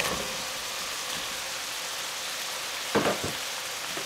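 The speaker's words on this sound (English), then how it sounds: "we are going to start adding in our onions and let these cook down as well" Onions fry in a pan with already cooked pork, giving a steady, soft sizzle with a brief burst of stirring clatter near the end and no talking.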